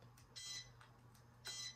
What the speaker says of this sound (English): I hear my timer going off